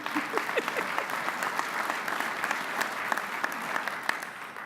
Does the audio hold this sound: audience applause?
yes